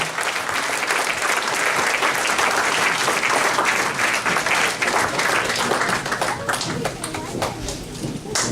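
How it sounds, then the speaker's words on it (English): Sustained audience applause at a tribute event for Larry Matysik, dense and loud throughout, with scattered whoops and voices in the crowd, easing slightly near the end. "let's give a round of applause for someone that still gives a shit in this business"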